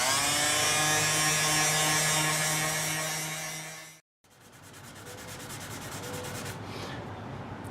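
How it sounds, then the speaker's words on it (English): Steady, continuous rubbing of Suzuki GS550 clutch parts by hand with sandpaper, loud and close, stopping briefly before resuming in a softer, rhythmic scratching pattern, with no talking. "sitting here sanding and just getting centered"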